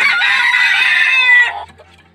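A farm rooster of fighting-cock stock crows once, loud and close, one long sustained cock-a-doodle-doo that holds steady for about a second and a half before breaking off and trailing into quiet.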